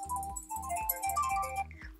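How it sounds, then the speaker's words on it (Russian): A phone rings indoors with a melodic electronic ringtone: a bright repeating pattern of short tones over a pulsing low beat, fairly loud and steady for the whole stretch. "Телефон?"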